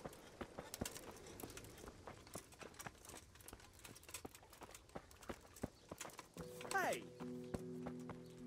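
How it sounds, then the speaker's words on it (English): Horses in Kingdom Come: Deliverance, with hooves clopping in an uneven rhythm and a clear whinny partway through, over a low background of game ambience and speech. "Hitch up the white horse"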